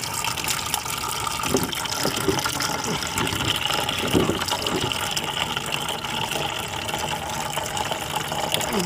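Coolant draining from a Ford Focus outdoors at night, a steady faint trickling and splashing of liquid running continuously without a break.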